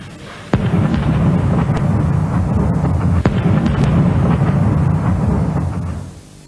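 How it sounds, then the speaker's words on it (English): Artillery shells exploding over Sarajevo at night during the 1992 bombardment, a loud, continuous rumbling roar broken by sharp, distinct blasts near the start and midway. "Under a sickle moon, the city rocks to the explosions."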